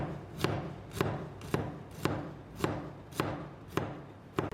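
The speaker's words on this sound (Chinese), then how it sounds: "接下来准备一些大蒜， 切成薄片" A knife cutting garlic into thin slices on a cutting board, about ten crisp, evenly spaced taps of the blade, close and clear.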